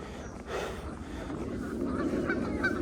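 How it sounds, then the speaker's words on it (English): Geese honk repeatedly at a moderate distance outdoors during a walk, a steady wash of calls running through the whole stretch with faint background noise. "I know you guys can hear those geese."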